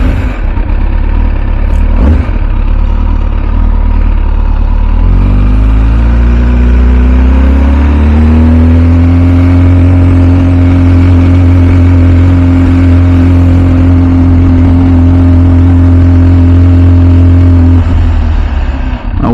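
An MV Agusta F4 Tamburini motorcycle engine idles loud and close, then revs up and holds a steady high drone for several seconds before dropping off.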